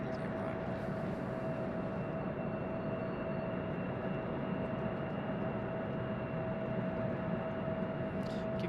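An airliner arriving at Raleigh Durham airport, a steady, distant engine roar with a thin whine above it that holds unbroken throughout.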